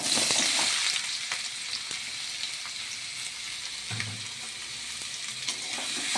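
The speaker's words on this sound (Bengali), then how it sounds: "আলুটা দিয়ে এবারে একটুখানি ভাজা ভাজা করে নিতে হবে" Potatoes frying in oil in a wok, giving a soft, steady sizzle close by, with occasional light stirring scrapes and a brief low knock partway through.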